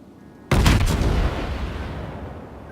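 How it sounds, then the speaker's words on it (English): A warship in the naval video game World of Warships fires a full gun salvo: one sudden heavy boom with a quick crackle of overlapping shots, then a long rumbling decay. "I think I just fired a full salvo."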